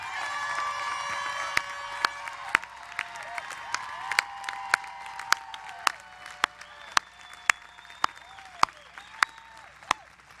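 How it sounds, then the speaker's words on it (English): An audience applauds veterans at a college commencement ceremony, steady applause from a large crowd with scattered cheers, sharp nearby claps standing out through the ten seconds. "We applaud you for your service."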